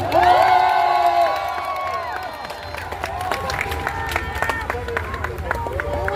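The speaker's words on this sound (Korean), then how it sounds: "여러분 스스로를 위해 박수 한번 칩시다" A large crowd at an outdoor political rally cheers and applauds: a loud swell of voices and whoops at first, settling into sustained clapping that goes on to the end, with a speaker's voice heard over it.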